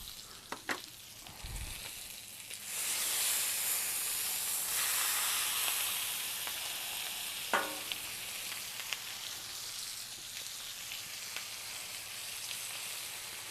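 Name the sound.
ribeye tomahawk steak sizzling on Blackstone griddle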